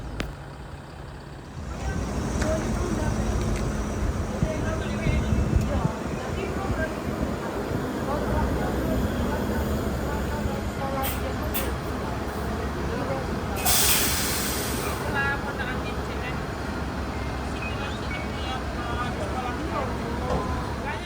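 A Skyliner intercity bus, CSH 88, pulls away from a bus terminal in Curup, its engine a steady heavy rumble heard from inside the cabin, with a brief hiss partway through and people talking under the noise.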